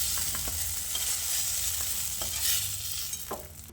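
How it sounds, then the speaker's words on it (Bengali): Eggplant pieces frying in hot mustard oil in a kadai, a steady bright sizzle with occasional stirring scrapes and clicks, close and continuous with no voices. "বেগুনগুলো দেওয়ার পর ভালো করে নেড়ে চেড়ে বেগুনগুলোকে লাল লাল করে ভেজে নিতে হবে।"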